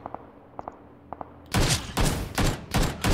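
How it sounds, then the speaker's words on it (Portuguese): Rapid bursts of gunfire in the video game PUBG Lite, a few faint distant shots at first, then loud, close, rhythmic volleys in quick succession. "Oh, tem gente atirando em mim."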